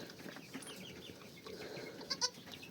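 Newborn goat kids, a ginger male and a small female, bleat in a farm setting: two short, fairly near high cries close together near the end over a low, steady background.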